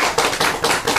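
An audience applauding at a Seoul lecture, a brief burst of dense hand clapping that carries on at an even level, close and fairly loud, with no voices over it.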